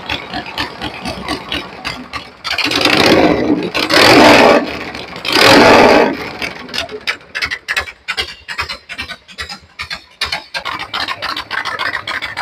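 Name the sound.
Harley-Davidson Shovelhead FXE 1200 engine running, S&S carburetor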